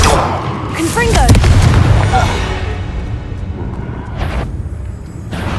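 A Confringo fire-blast spell explodes in a Harry Potter video game, a loud booming burst with crackling rumble that decays over several seconds, with a brief voice heard over the blast.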